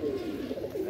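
Pigeons in a rooftop loft give a soft, low, rolling coo, a single short burst heard close and fairly quiet.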